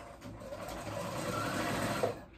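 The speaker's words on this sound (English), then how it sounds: "I'm gonna use a zigzag stitch on my sewing machine and zigzag it" A sewing machine runs steadily on a zigzag stitch, its rapid mechanical stitching whirring continuously at close range with no voices.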